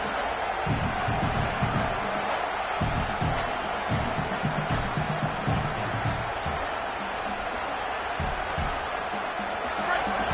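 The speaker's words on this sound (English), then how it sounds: "This crowd is trying to inspire this defense to make a big red zone stop." A college football stadium crowd roars steadily and loudly throughout as the defense faces a red zone stand, a dense wash of voices with no pause.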